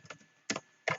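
Three quick bursts of key clicks on a computer keyboard, crisp and close, separated by short pauses in a quiet room.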